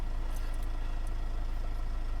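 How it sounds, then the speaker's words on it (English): A Mercedes Vito W639 van's engine idles steadily at close range, a low, even rumble with a regular pulsing beat and no talk over it. "Turn the ignition on, turn the engine on"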